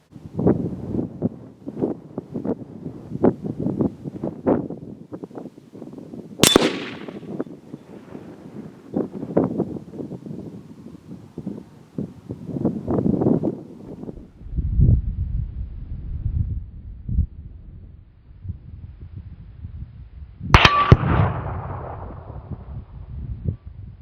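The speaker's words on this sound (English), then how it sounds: "Getting ready to shoot 223 Remington 40 grain VMAX bullet, Hornady Varmint Express." Two sharp rifle reports from a .223 Remington firing 40-grain Hornady V-Max varmint loads, each a loud crack with a decaying tail, set apart by about fourteen seconds. Gusty wind and rumble noise run steadily underneath, outdoors at a steel spinner target.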